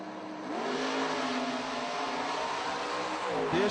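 Clint Dishman's Vega drag car accelerates hard at a footbrake drag race, its engine note rising in a steady, loud sweep over nearly four seconds with a final surge at the end.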